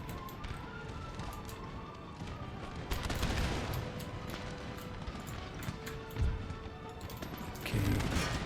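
Musket volleys from massed infantry in the Empire: Total War game, crackling ragged gunfire mixed with hoofbeat-like clatter at moderate distance, swelling in several bursts.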